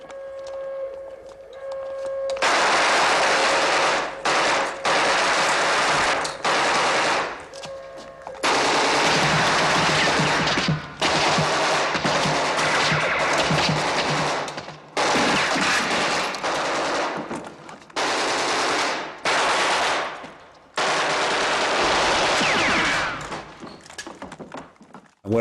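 Machine guns fire in a war film, with long, loud, dense bursts of rapid automatic shots split by short gaps and several near-silent breaks, close and harsh with no talking.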